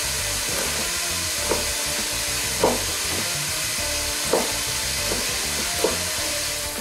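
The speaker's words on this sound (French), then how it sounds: "les oignons sont bien revenus" Onions sautéing in a pan for a chicken liver tajine, a steady close sizzle and hiss with a few soft utensil knocks spaced several seconds apart.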